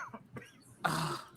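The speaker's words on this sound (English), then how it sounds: "As you fucking cough" A sudden harsh cough bursts out near the end, loud and close, following some quieter throat noises and breathy sounds in a casual indoor setting.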